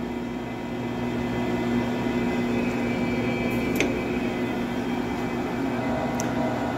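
A Willis PK lathe cuts a thread with a steady, close mechanical hum and whine of the running machine, with faint metallic ticks over the drone.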